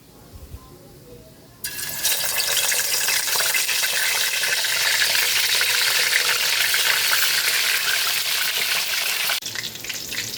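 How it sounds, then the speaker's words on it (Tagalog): A loud, steady sizzle of tilapia and chicken dropped into hot oil erupts suddenly and crackles continuously for several seconds, close by. "Magpiprito na po tayo ng ating walang kamatayang tilapia at pritong manok."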